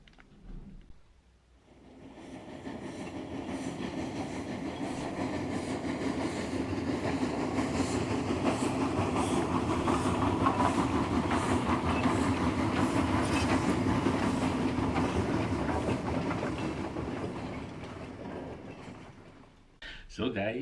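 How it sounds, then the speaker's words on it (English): Steady rolling rumble of a live steam train journey through Scotland, with rhythmic wheel clatter on rails swelling after a quiet start and holding loud and close for most of the ride before cutting off. "The live steam journey through Scotland."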